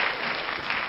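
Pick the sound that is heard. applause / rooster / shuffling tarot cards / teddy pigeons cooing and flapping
applause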